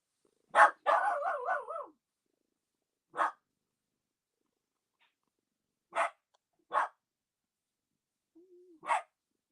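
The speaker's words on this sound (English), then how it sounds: "The dog has to holler about it." A dog inside a house barks at someone coming in the door. A wavering howl-like bark is followed by several short, separate barks spaced a few seconds apart, with quiet between them.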